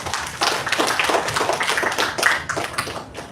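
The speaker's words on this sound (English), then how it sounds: "A big round of applause." An audience at a personality development and life skills training session claps in uneven, close bursts that swell and fade, moderately loud with no talking.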